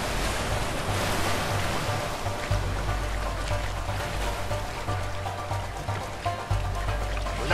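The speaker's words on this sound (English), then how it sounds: "Waterfall!" A waterfall in the co-op video game A Way Out roars as a constant, broad rush of churning water, steady and loud throughout with a deep low rumble beneath and no talking.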